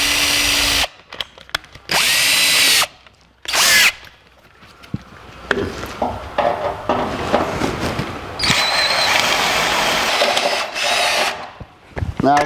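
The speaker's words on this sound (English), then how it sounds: "now we're going to use an 11/16 inch drill to get rid of that lip" An 11/16 inch bit drilling out a metal lip on a transmission cooler mount for a 1949 Chevrolet gasser, heard as several loud, close bursts of whining drill with pauses between, then a longer stretch of grinding and rattling work noise.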